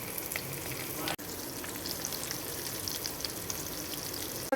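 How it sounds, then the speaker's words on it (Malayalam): Mackerel fillets coated in ginger, garlic, turmeric and salt sizzle in hot oil in a pan, a steady crackling fry that runs evenly throughout with a brief dip near the start, with no voices. "ഇവിടെ ഞാൻ അയില മീൻ വറുത്തുകൊണ്ടിരിക്കുവാണ്."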